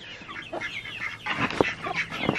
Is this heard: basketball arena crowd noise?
no